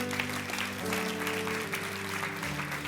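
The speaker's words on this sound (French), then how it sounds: "tous ceux qui le croient disent Amen et applaudissent bien fort" A church congregation claps steadily and loudly through a worship service while a sustained organ or keyboard chord holds underneath.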